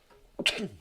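A single sharp sneeze bursts out close to the microphone, a brief loud noisy blast after a quiet moment, with a short breathy tail as it fades.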